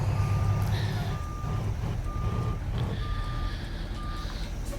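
A truck in American Truck Simulator backs up, its reversing alarm beeping in steady, evenly spaced pulses over a constant rumbling engine drone, loud and close with no talk.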